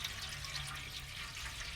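Warm water pours into the water pan of a well-used electric smoker, a soft steady trickling splash that stays faint and continuous throughout.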